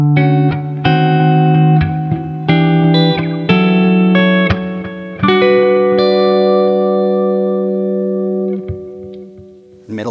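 Budget Les Paul-style electric guitar on its neck pickup with a clean tone, played alone: a series of sustained strummed chords and single notes ringing out with a light effects sheen, the last chord slowly fading.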